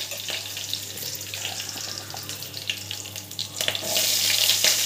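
Green chilies, cumin seeds and curry leaves fry in hot oil, giving a steady close sizzle and crackle over a low hum, swelling into a louder, brighter hiss toward the end.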